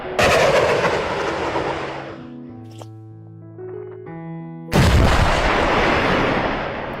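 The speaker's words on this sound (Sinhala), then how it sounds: "මේ වගේ වාහනයකට කියන්නේ මයින් ක්ලියරින් ලයින් චාර්ජ් වෙහිකල් එකක් කියලා." A mine clearing line charge vehicle detonates landmines with loud, heavy blasts that roar and rumble away, separated by a quieter stretch with a low musical tone, before another powerful close detonation.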